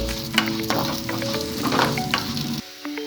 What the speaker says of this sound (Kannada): ಸ್ವಲ್ಪ ಬ್ರೌನ್ ಕಲರ್ ಬರೋವರೆಗೂ ಫ್ರೈ ಮಾಡೋಣ, ತುಂಬಾ ಕಪ್ಪು ಮಾಡಬೇಡಿ.